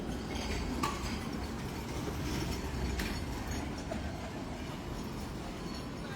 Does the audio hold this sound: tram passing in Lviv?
yes